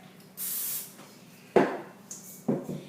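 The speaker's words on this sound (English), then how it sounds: "we're going to lightly spray the top of our dough with the cooking spray" Three short hissing bursts of cooking spray from an aerosol can onto dough, spaced about a second apart, close by with soft handling noises between.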